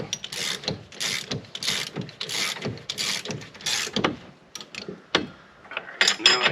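Ratchet wrench tightening a bolt on a Tesla Model 3 front knuckle, with repeated quick clicking bursts in an uneven rhythm, close and moderately loud with brief pauses.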